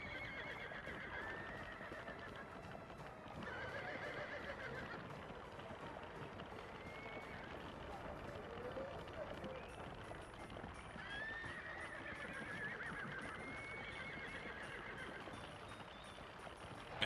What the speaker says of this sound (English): the horses are even angrier than people are normally, with the neighing instead of the honking